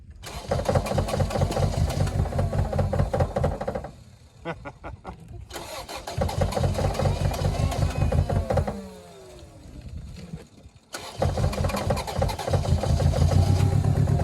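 A 1989 Mercury Grand Marquis engine cranks with a whirring starter, catches briefly and dies, cranks again and fires, then revs and settles into a running idle, loud and close with no talk over it.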